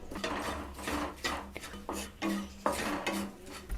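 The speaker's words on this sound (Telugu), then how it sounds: "ఇప్పుడు ఇవన్నీ కూడా బాగా డ్రై అయ్యేంత వరకు వేయించుకోవాలి." Ingredients for a natural hair dye being dry-roasted in a pan, with repeated scraping and clinking of a spoon against metal in uneven strokes, close and moderately loud.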